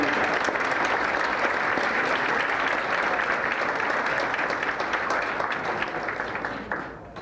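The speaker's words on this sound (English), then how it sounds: "You deserve a round of applause for that." Dinner guests at a Boy Scout council annual dinner break into sustained applause, a thick, continuous roar of many clapping hands that stays loud for about seven seconds before thinning out and fading at the close.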